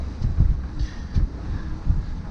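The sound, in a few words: wind while sailing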